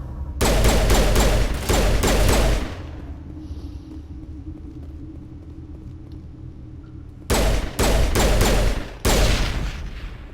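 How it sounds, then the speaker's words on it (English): Pistol gunfire in Mass Effect comes in two rapid, loud bursts of repeated shots, with a quieter stretch of low ambient hum between them. "Pistol doing a good job here."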